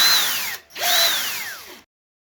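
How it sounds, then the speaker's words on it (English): A power drill bores a hole through a plastic toothbrush handle, two close whining runs that wind down in pitch before stopping. "and drilling a hole for a string."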